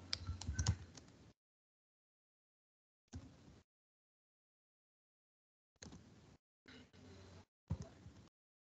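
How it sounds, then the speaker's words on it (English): Typing on a computer keyboard comes in short separate bursts of quick clicking keystrokes with silent gaps between them, close and fairly quiet, with no voices. "Whatever you are typing in Notepad, it is coming slowly"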